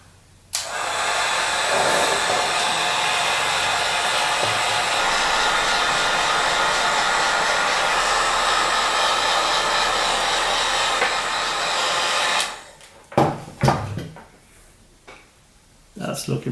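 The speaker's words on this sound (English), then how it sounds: "Now we take the heat gun." A heat gun blows hot air in a steady, loud, close whoosh for about twelve seconds while crafting a faux mummified bat, then cuts off, followed by a few clunks and handling noises.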